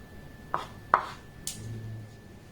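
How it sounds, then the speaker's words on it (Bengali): A knife cuts the edges off bread slices on a board, giving three distinct soft chopping taps spaced about half a second apart, close and quiet, with no talk. "চার ধারের এই প্রান্তগুলোকে আমি এইভাবে কেটে বাদ দেব"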